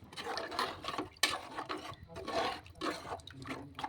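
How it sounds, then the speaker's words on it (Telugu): Water pours into an Andhra-style mutton curry in a pot, splashing in a few loud, rushing bursts with brief pauses between them. "ఇప్పుడు తగినంత నీళ్ళు పోసుకుందాం"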